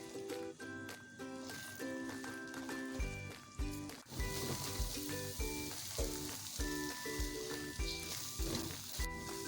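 An egg fries in oil in a kadhai, giving a steady broadband sizzle that runs throughout beneath louder tonal background music.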